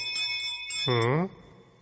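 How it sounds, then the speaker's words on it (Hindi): A cartoon bell clangs as it falls, a short bright ringing burst with harmonic overtones lasting about half a second, set against soft background music. "आप लोगों के चिल्लाने से ये घंटी नीचे गिर गई थी।"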